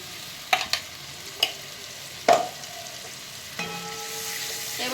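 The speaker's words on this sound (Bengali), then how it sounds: "এবার মশলাটা ভালো করে আমি একটু কষিয়ে নেব।" Spice paste with chilli powder and tomato paste sizzles steadily in a pan, a soft continuous frying hiss broken by sharp clacks of a spoon stirring and scraping, close by with no talk.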